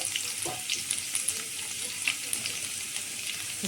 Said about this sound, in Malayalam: കറിവേപ്പില, നമ്മൾ അരിഞ്ഞ് വെച്ചേക്കുന്ന ഉള്ളി ഇട്ട് കൊടുക്കും